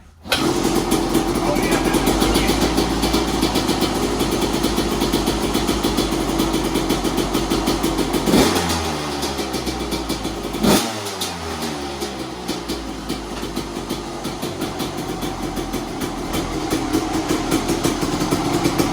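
A Husqvarna WR250 two-stroke dirt bike, an old street-legal bike started on choke, fires up and settles into a steady, buzzing idle with a couple of revs, close by and loud throughout; someone talks over it.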